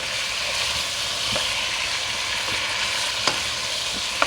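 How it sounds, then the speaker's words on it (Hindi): Chicken pieces fry in a pan of hot oil for a karahi, holding a loud, dense, continuous sizzle with a few sharp spatters and pops. "ये देखिए, ये दूसरी तरफ हमारी चिकन फ्राई हो रही है।"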